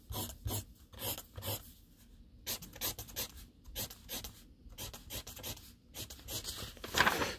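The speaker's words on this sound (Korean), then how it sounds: "그려보겠습니다." A pen sketching a wire-mesh fence diagram, with quick, scratchy strokes in uneven bursts separated by brief pauses, close and fairly quiet.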